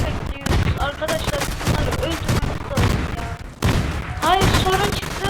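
Rapid bursts of gunfire from the car combat video game Rage of Car Force, loud repeated volleys with short gaps, while someone talks excitedly over the shooting.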